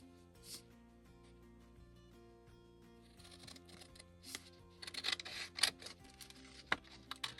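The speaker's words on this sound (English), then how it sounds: "I am going to go ahead and cut this off." Scissors cut through a junk mail envelope being made into a tag, with faint rustling paper and a few quiet snipping crunches that grow busier toward the end over a low hum.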